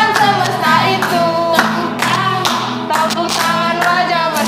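Hands clap in a steady rhythm along to a cheerful Sunday school worship song, the sharp claps sounding close and loud over the singing and music throughout.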